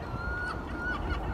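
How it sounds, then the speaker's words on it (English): A gull calls out over water during kayak fishing for zander, a few thin, high cries standing above a steady low rumble of wind and water. "Even the seagull finds it funny."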